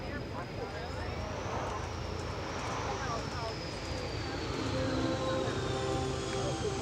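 An F/A-18F Super Hornet jet makes a demonstration pass at the EAA AirVenture air show. A broad, loud roar sweeps with a falling whine, and a public-address announcer speaks over it.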